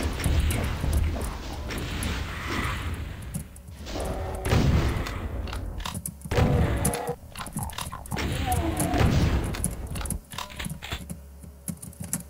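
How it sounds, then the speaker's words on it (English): Rockets fired repeatedly in a Doom map, with a steady stream of launches and thudding booming explosions overlapping one another over loud, busy game noise. "so I can start spamming rockets"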